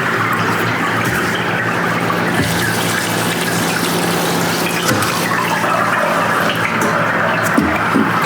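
Water runs into a distiller set up for white sage, a steady close rush and trickle of filling liquid with occasional knocks, no talk.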